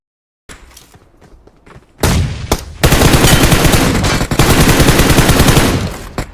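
Shotgun fire in a shooter video game, heard as a few sharp blasts followed by a dense, loud, continuous barrage of rapid gunfire and impacts, close and overwhelming.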